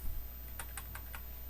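A few computer keyboard keys are pressed in quick succession, four light, close clicks against a soft steady room hum.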